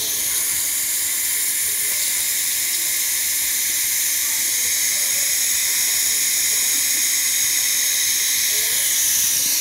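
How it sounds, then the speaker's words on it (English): Steam wand on a Breville espresso machine steaming water, giving a steady, loud, continuous hiss that holds unbroken from start to finish with no other sounds over it. "I'm just going to steam some water."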